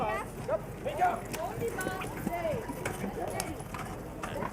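Horses pull a carriage in a driving competition, with hooves clip-clopping at a quick, uneven pace beside a commentator talking over them and faint calls in the background.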